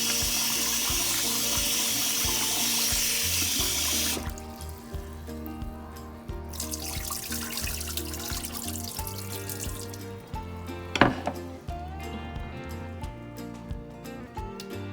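Water gently poured off a pot of soaked peas to rinse away floating skins, a steady running, splashing pour that eases off partway through, with a brief clink near the end.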